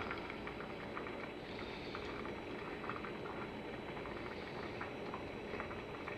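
Two ounces of rice boil inside a soup can over a tea can stove with a can heat shield, giving a steady close bubbling hiss with dense crackling pops throughout and no voices.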